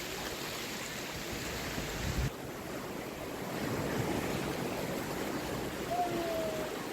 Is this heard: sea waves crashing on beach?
yes